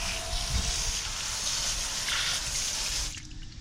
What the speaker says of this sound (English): Look at the water just rolling off inside the barrels.